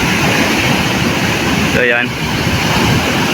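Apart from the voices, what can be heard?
big sea waves and strong current crashing on rocks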